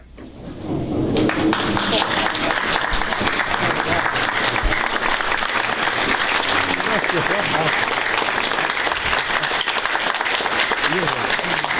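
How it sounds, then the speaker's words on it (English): Loud, sustained applause from a room full of people, bursting in after a short quiet start and continuing steadily, with voices mixed in. "Everyone stand up and applaud Grandpa."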